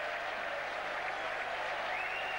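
Stadium crowd applauding and cheering as the Premiership Trophy is lifted after a rugby league final between St Helens and Wigan at Old Trafford; dense, steady roar of clapping and cheers throughout, loud and continuous.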